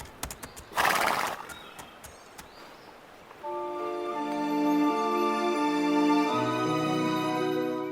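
A ridden horse whinnies loudly once near the start, and its hooves clip-clop steadily. Sustained musical tones and faint birdsong join partway through, with no voices.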